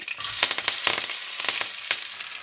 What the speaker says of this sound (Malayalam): അതിലേക്ക് നമുക്ക് കടുകിട്ട് കൊടുക്കാം കടുക് പൊട്ടിക്കഴിഞ്ഞ് നമുക്ക് ചെറിയ ഉള്ളി കരിവേപ്പില വറ്റൽമുളക് അതിലേക്ക് ഇട്ട് കൊടുക്കാം